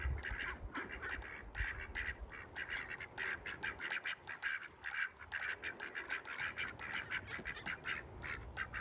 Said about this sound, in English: ducks are doing pretty good